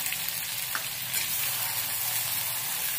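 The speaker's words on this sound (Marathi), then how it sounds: "आपला मसाला हा छान फ्राय झालेला आहे, त्याला आता तेल सुटायला लागलेलं आहे" Onion, coconut and ground ginger masala with cumin and mustard seeds frying in oil, a steady close sizzle running evenly throughout with no voices.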